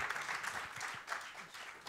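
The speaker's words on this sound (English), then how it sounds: "Another very round of big applause for Dr. Steve" An audience applauds after a talk, with continuous, even clapping that is fairly faint and distant.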